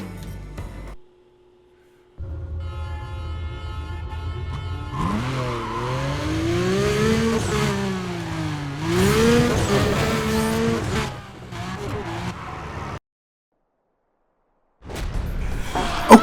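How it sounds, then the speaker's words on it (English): A Porsche 911 GT2 races through the Gold Coast Mountains in Need for Speed Undercover, its engine revving up and down through gear changes with brief tire squeal, loud and close, broken by short silent gaps. "we've entered our first race in the Gold Coast Mountains in the Porsche 911 GT2."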